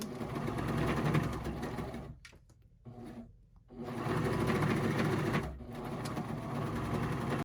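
A Baby Lock Vibrant sewing machine stitches along the edge of a scarf, a fast steady mechanical hum that stops briefly midway and then resumes, no voices.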